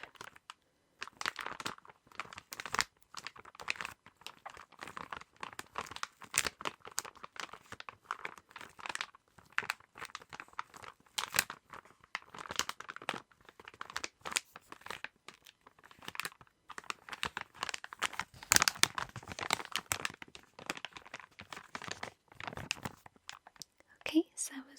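Candy and snack wrappers crinkling and tearing during an unboxing of Japanese treats, a dense run of close, crisp rustles and crackles with soft whispering underneath throughout.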